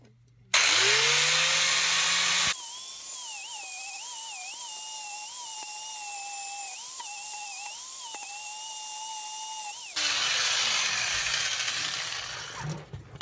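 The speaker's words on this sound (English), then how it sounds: "I'm going to need to take that grinder and just grind some of this down so it's a nice surface that welds good to it" An angle grinder smoothing a metal surface in preparation for welding a hydraulic e-brake mount, spinning up loudly, then a sustained whining grind with a wavering pitch, then spinning free again before winding down, close and alone.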